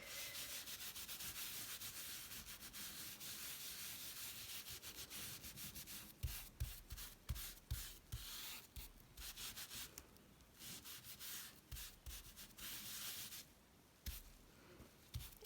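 Paint is rubbed over a stencil onto an art journal page, making a soft, close scrubbing and brushing sound, steady at first, then in short rhythmic strokes, quiet and alone.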